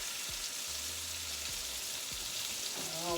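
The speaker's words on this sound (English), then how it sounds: "All I got to do is just pop it straight in the frying pan." A soft, steady sizzle of cod frying in a pan, close and quiet, with a few faint clinks near the end.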